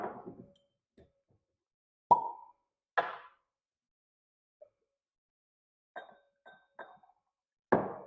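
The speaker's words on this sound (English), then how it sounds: "If I can get the cork back on it." A cork pushed back into an Old Forester 1910 Old Fine Whisky bottle gives several soft, hollow plops and squeaky glass-and-cork taps, spaced irregularly in a quiet room.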